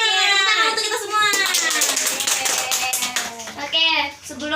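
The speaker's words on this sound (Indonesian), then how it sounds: "Oke, tepuk tangan untuk kita semua." Schoolchildren in a fifth-grade classroom clap their hands together, a dense burst of quick, close claps mixed with excited children's voices, briefly dipping before a final flurry.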